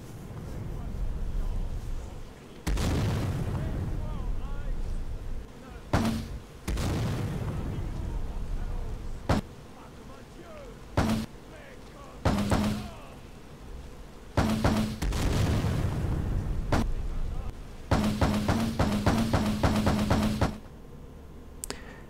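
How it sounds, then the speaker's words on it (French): A rocket launcher from a Skyrim video game mod fires repeatedly. Sharp, loud launches and heavy explosion booms are separated by stretches of quieter rumbling, and some blasts come in quick clustered bursts. "maintenant on va un peu écouter le lance-roquette pour vous donner une idée"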